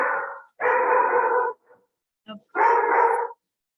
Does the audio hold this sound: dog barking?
yes